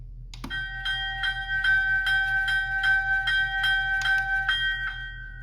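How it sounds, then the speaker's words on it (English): A locomotive bell from the DCC sound decoder of a Rapido PA-1 model train rings steadily, about two clear metallic strikes per second, close and loud over a low electronic hum. "and then we have the bell"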